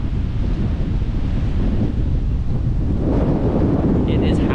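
Strong wind howls over a bay, buffeting the microphone with a constant low roar and rushing noise, while choppy, white-capped water churns along the mangrove shore.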